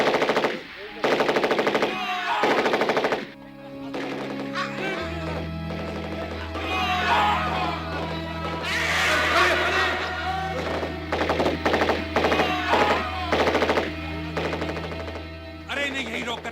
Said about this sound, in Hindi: फायरिंग शुरू करो।